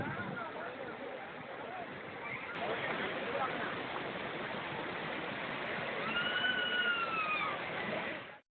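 Steady roar of rushing water at the Courtallam falls, where crowds of tourists and families bathe; a continuous broadband wash fills the whole stretch, slightly louder toward the end, with a faint high whistle near the close.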